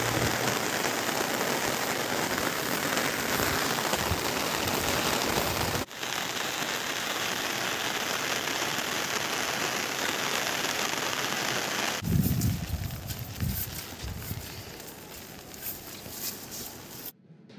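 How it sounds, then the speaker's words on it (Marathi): Heavy rain pounding down around the Chaskaman dam area, a dense continuous hiss of drops striking surfaces, steady and fairly loud with a slight change in texture partway through. "चास्कमान धरण परिसरात साबुर्डी आणि वाशेरे परिसराला पावसाने झोडपून काढले"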